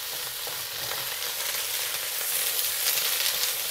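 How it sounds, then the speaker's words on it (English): Steady hissing sizzle of cabbage strips and eggs being stir-fried in a hot pan, a soft, continuous crackle with light stirring throughout and no voices. "Mix the cabbage with the eggs."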